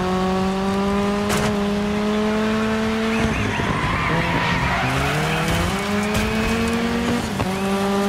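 A car braking in the rally racing game Dirt 5, with a steady engine drone whose pitch drops and then climbs again, mixed with tire squeal and skidding on loose ground, loud and close throughout.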